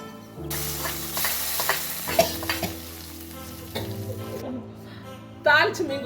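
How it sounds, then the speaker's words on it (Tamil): Hot tempering with dried red chilli tipped into an anchovy and raw mango fish curry, giving a loud burst of sizzling that settles into steady frying and stirring, with a fresh crackle near the end. "தாளிச்சு மீன் குழம்புல கொட்டியாச்சு."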